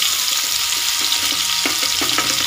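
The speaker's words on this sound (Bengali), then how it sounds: "কুমড়োটা আমি একটু ভালো করে ভেজে নেব।" Pumpkin pieces fry in hot oil for a Bengali lentil dish, a steady close sizzle with faint stirring clinks and no talk.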